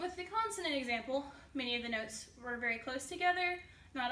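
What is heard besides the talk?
No distinct noise like a dog, phone or traffic.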